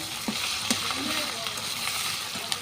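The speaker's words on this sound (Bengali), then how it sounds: "আদা রসুন বাটাটা আমি ভালো করে তেলের মধ্যে আর কি ভেজে নেব" Ginger garlic paste fries in hot oil with a dense, close sizzle, punctuated by a few sharp spoon clicks against the pan.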